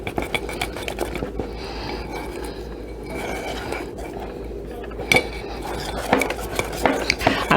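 Corn dog batter with baking soda being mixed in a bowl, a run of irregular scraping and clinking utensil strokes against the bowl with a few sharper knocks, close and moderately loud.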